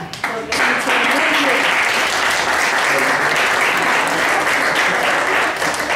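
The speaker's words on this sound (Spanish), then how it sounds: "no me queda más que darles un fuerte aplauso a ustedes mismos" Sustained applause from a workshop audience in a classroom or hall, dense and loud throughout with steady clapping, faint voices mixed in.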